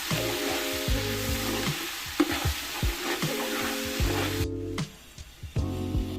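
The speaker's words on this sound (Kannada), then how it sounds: "ಈಗ ಅದಕ್ಕೆ 2 ಸ್ಪೂನ್ನಷ್ಟು ಕಸೂರಿ ಮೇಥಿ ಹಾಕಿ 2 ಸ್ಪೂನ್ನಷ್ಟು ಶುಂಠಿ ಬೆಳ್ಳುಳ್ಳಿ ಪೇಸ್ಟ್ನ ಹಾಕ್ಕೊಂಡು ಹಸಿ ವಾಸನೆ ಹೋಗೋವರೆಗೂ ಚೆನ್ನಾಗಿ ಬಾಡಿಸ್ಕೊಳ್ಳಿ" Ginger garlic paste and kasuri methi sauté in a hot pan for chicken biryani, a constant loud sizzle broken by repeated scraping strokes of a spoon against the metal, close up, with no talking.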